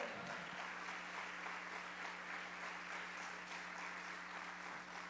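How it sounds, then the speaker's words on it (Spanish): A church congregation applauding together during a sermon, a dense, steady wash of clapping that holds evenly throughout with a low hum beneath and no talking. "¿Alguien le puede dar un aplauso a Dios?"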